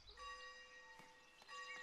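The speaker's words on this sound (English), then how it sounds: "ring the bells" Church bells ringing in the medieval settlement game Foundation, a faint sustained metallic tone with shimmering overtones and a couple of soft strikes.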